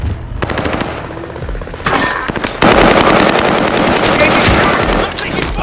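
Rapid automatic gunfire from the video game Call of Duty, loud bursts building into sustained close-range fire with dense overlapping shots, a voice speaking over the action.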